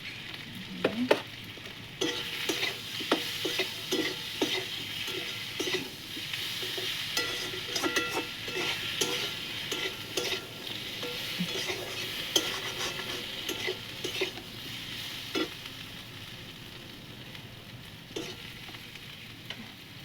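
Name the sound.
sautéing fish curry with turmeric in a pan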